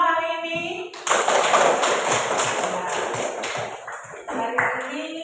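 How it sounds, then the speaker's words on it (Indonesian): A classroom of schoolchildren bursts into applause for about three seconds, a lively patter of many hands, with a teacher's voice speaking just before and after. "Kita kasih aplaus untuk kita semua hari ini."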